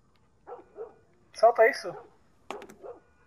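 A dog barks a few times at moderate distance in The Last of Us Remastered on PS4, with a person speaking around and over the barks.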